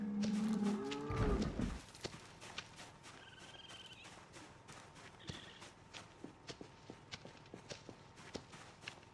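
Livestock in the zombie survival game Project Zomboid: a cow gives one loud, close moo, then repeated soft hoof and footstep thuds follow at a steady pace, with a couple of faint chirps in between.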